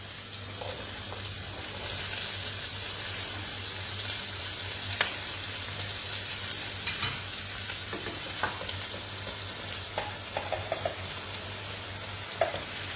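Vegetables for a vegetarian lasagne fry in a pan with a steady, close sizzle, and a few clinks and stirring sounds break through over the constant crackle.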